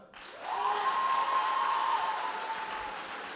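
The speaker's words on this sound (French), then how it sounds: "on peut déjà les applaudir une première fois, la triplette Arsène Lupin" Audience applause for a competing team at the final of a French oratory competition, starting after a short silence and staying loud and steady, with a long whistle or cheer rising above the clapping.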